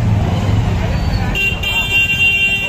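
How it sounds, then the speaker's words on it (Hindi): Car horns honk from behind in busy street traffic in Ameenabad, a steady tonal blare rising over loud road noise and a crowd, with voices talking throughout. "तो बात करते हुए चल रहा हूँ, तो हॉर्न मार दे रहे हैं पीछे से"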